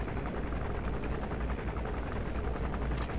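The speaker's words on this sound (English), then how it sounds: "That stupid helicopter, stop it." Helicopter rotor drone from the video game Metal Gear Solid V: The Phantom Pain, a steady, dense, loud broadband whir with fast rhythmic chopping that holds throughout, no voices.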